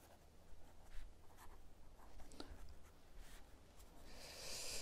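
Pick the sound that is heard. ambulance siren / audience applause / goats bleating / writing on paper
writing on paper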